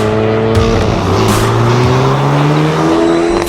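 A custom Chevrolet Camaro engine revs loud and close, its pitch rising and falling steadily through repeated throttle blips, with no voices present.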